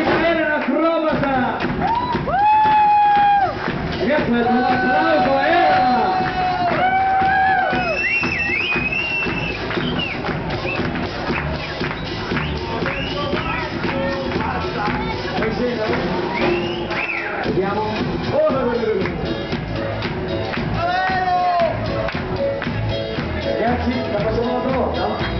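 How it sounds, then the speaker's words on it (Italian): An audience cheers and applauds for Micaela the acrobat at a live show at Palazzo Granaio. The dense, steady crowd noise fills the whole stretch, with whoops and shouts rising above it. "applauso alla nostra Micaela l'acrobata!"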